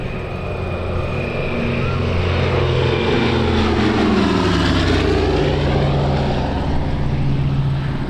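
Douglas C-47 Skytrain propeller aircraft flying past close at an airshow, a loud droning piston roar that rises and falls in pitch as it passes, with a faint voice underneath.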